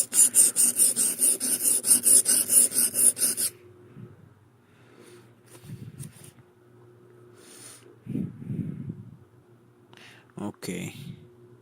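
A tool is sharpened by hand, giving a rapid rhythmic rasping of strokes for about three seconds, followed by quieter scattered scraping and handling noises.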